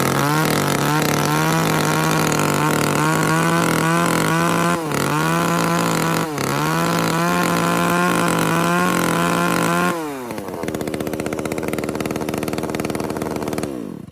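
A used Japanese chainsaw (Echo, Shindaiwa or Komatsu type) runs with a loud, close, buzzing two-stroke engine note that holds and wavers, then drops to a rougher, lower idle near the end.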